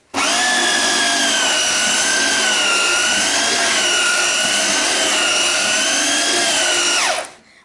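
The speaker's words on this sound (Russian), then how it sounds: "взяла я шлифмашину у мужа в гараже, притащила ее домой. Ну, так как он мне сказал, надо столешницу уже шлифовать." Electric sander working a wooden tabletop indoors, a loud, steady whine held for about seven seconds with slight wavering in pitch, then winding down at the end, with no voices.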